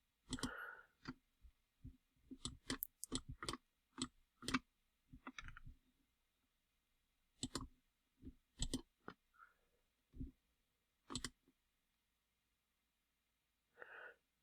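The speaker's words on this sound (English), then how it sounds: "Steady click of the mouse" A computer mouse button is clicked in a steady series of sharp, close clicks, mostly in the first half and in short later groups, each a separate dry snap over near silence.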